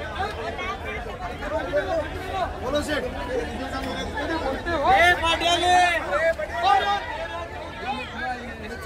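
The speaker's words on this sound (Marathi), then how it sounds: "हे बघा गर्दी बघा किती आहे." Busy murmur of a packed crowd at the Bhaucha Dhakka wholesale fish market in Mumbai, overlapping voices and calls rising and falling, with nearer talkers growing louder midway through the steady babble.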